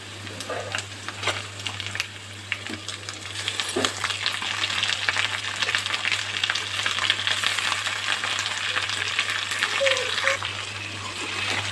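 Chicken fries with browned onions in a pan, a loud sustained sizzle with busy scraping and clattering as it is stirred, over a steady low hum.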